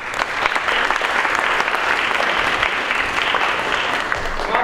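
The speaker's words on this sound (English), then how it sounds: "Can we give him an applause?" A theatre audience at an outdoor Shakespeare in the park production claps steadily for a sponsor, a dense, continuous wash of applause close by throughout.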